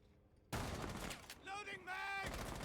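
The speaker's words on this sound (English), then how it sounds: "There were some gunshots happening at the time" Gunfire in the tactical shooter Rainbow Six Siege during a competitive match: a sudden loud burst of rapid shots after a quiet start, with a voice briefly heard amid the firing.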